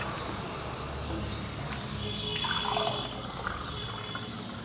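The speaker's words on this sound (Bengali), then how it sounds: "আমার ক্যাঙ্গেন ওয়াটার দিচ্ছি" Kangen water poured into a container for an acidity demonstration, a faint steady trickle and splash of liquid filling against a low room background, with no talking.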